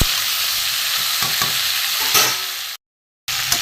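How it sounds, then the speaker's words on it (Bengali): Mixed vegetables frying and sizzling in a pan, a steady broadband hiss with occasional stirring scrapes, loud and close, broken by a brief silent gap near the end. "সবজি না ভাজলে ভালো লাগে না, খুব ভালো করে ভেজে নেব"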